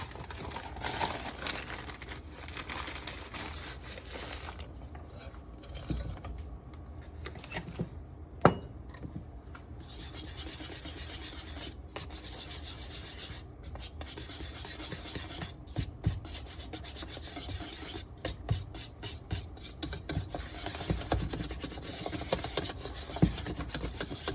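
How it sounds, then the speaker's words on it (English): Chocolate cake batter whisked in a bowl, with continuous close scraping and rasping strokes of the whisk and occasional sharper clinks against the bowl. "Whisk that completely in."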